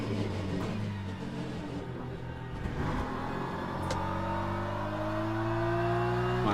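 An LMP2 prototype race car engine in the video game Le Mans Ultimate drones steadily, then its revs climb in a smooth rising whine as it accelerates down a straight.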